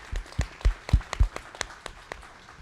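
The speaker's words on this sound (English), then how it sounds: "So I'm going to take a little applause for that." A brief round of sparse clapping from a modest audience at an education talk in El Paso: a handful of distinct claps that quickly thin out and fade.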